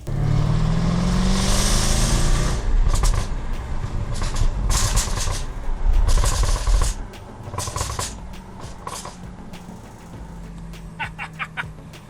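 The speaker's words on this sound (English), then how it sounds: "as it's coming down, it starts popping and banging" Jaguar F-Type V8 exhaust crackling on the overrun as revs fall from about 2,500–3,000, a loud rumble giving way to a string of sharp, irregular pops and bangs close by, with no talk.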